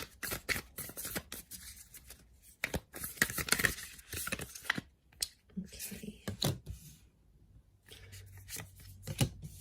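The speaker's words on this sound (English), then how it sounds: "let's give the cards a shuffle" Close-up bursts of cards being shuffled, papery riffles and slaps in uneven rhythm with short pauses between them.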